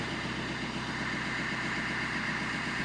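A Fiat Linea 1.3 Multijet diesel engine idles steadily, a close, even mechanical hum and throb that holds constant without change.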